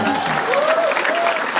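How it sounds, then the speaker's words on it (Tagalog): An audience claps steadily at a business seminar, with dense, sustained applause filling the room and a faint voice briefly heard over it. "Palakpak kayo ng palakpak"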